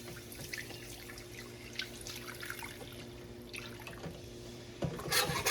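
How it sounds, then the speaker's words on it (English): Milk is poured into a roux in a pan for a basic white gravy, a steady close liquid trickle and splash that runs for several seconds and grows a little louder and brighter at the end, with no talking. "I'm going to take 4 cups of milk and just pour it right on in."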